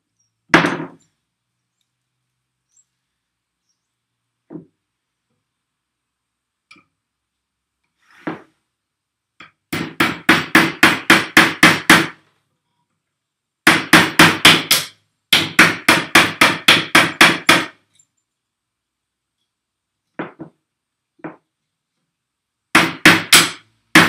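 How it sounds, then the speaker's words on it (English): A hammer drives a nail into wood while the nail is held with pliers: a few single knocks, then loud, close bursts of rapid, evenly spaced blows, about eight to ten strikes in each burst. "use the pliers to hold the nail and hammer it in"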